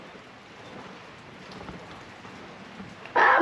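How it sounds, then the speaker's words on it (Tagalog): Rain falls steadily outside, a soft diffuse patter heard indoors, faint and even, with a sudden louder rustle at the very end. "Umuulan na naman kasi"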